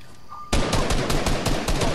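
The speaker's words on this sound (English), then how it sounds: "Hit him with your shotgun, baby." Shotgun blasts in the video game Fortnite, a sudden loud burst of repeated heavy gunfire that starts after a brief quiet moment and keeps going in rapid succession.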